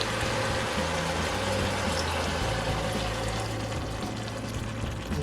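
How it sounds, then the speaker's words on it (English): Beef broth poured into a pot of hearty beef chili, a continuous loud gushing pour that holds steady for several seconds over a low hum. "So first we're going to go in with our beef broth."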